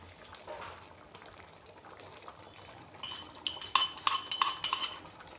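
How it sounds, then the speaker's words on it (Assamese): Quiet, soft bubbling of dal curry made with rajma and chickpeas boiling in a pot, followed by a run of sharp metal clinks from a utensil against the pot. "এয়া চাওক আঞ্জাখন ধুনীয়াকৈ উতল আহিছে"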